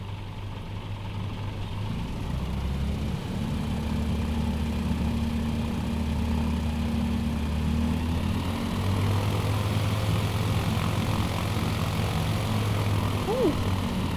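Propeller plane engine taxiing in Microsoft Flight Simulator 2020 on a bush trip from Breckenridge to Yosemite, a steady low drone with a rise in power partway through, continuous and close throughout.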